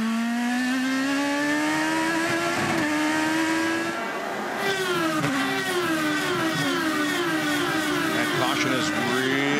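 A 2009 IndyCar race car engine screams at high revs at the Honda 200, drops its pitch sharply as it downshifts to second, then climbs again, loud and continuous and close to the microphone.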